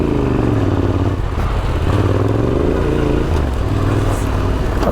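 An adventure motorcycle rides off-road through a left turn; its engine drones steadily and loudly up close, with the pitch shifting slightly as it works through the corner.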